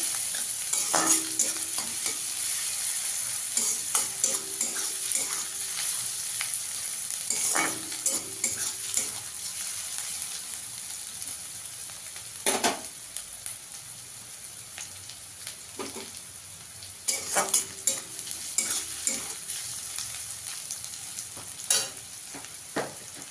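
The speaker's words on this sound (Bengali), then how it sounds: "পেঁয়াজটা দিয়ে একটু এরকম করে একটু লাল লাল করে ভেজে নিতে হবে।" Onion, ginger and garlic fry in a pan with a steady, close sizzle, while a spatula repeatedly scrapes and stirs in sharp bursts throughout.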